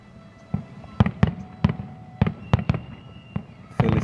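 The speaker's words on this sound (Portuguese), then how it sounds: "Os fogos de artifício" New Year fireworks bursting over Lisbon, a series of sharp booms arriving every half second or so over a steady crackling rumble, ending in a denser crackle.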